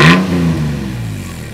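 A lowered, stanced car's engine revs hard then settles into a loud, rattly idle right up close, a short burst of exhaust and mechanical clatter.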